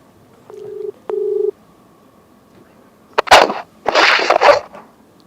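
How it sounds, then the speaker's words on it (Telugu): A phone call from a Telugu interview setting rings out: two steady electronic ringback tones in quick succession, followed by louder bursts of broadband noise near the end. "రింగ్ అవుతుంది."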